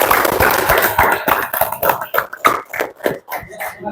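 Classroom applause for a student group, a dense burst of clapping that thins into a few separate sharp claps and taps, close and fairly loud.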